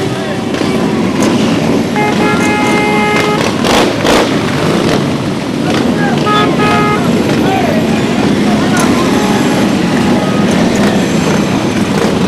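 Motorcycles of JJ Cycle roll past in a Memorial Day parade in Watervliet, a steady loud engine drone with horn toots amid crowd noise and voices throughout.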